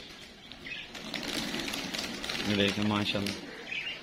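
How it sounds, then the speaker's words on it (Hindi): A flock of mixed pigeons flaps and flutters as the birds gather in a village setup, a quick burst of wingbeats mixed with low coos, close by, while someone talks over them. "झुंड बांध के सारा इकट्ठा हो गया"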